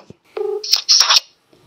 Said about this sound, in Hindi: तो मैंने उठा लिया अपना मोबाइल फोन और मैं उनको लगा रहा हूं सीधा फोन